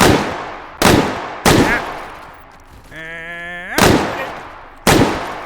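ARVolver gun firing in the VR game H3VR: five loud, close single shots spaced about a second apart, with a rising mechanical whir between two of them.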